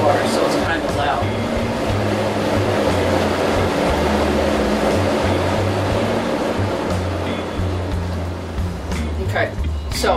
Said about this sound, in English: the washing machine is spinning now to get rid of the rinse water, so it's kind of loud.